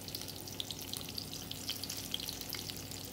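Chopped onion sizzles and crackles steadily in a hot pan, a close, continuous hiss with scattered small pops, with no talking.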